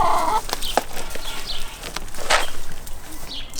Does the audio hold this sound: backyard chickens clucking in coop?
yes